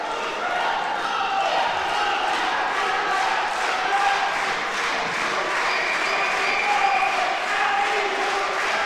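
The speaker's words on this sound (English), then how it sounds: "There are people celebrating, jumping up and giving, hand claps." Spectators at a men's judo European Open in Oberwart, Austria, clapping and cheering, a dense steady wash of applause and crowd noise with rhythmic pulsing claps throughout, commentary voice underneath.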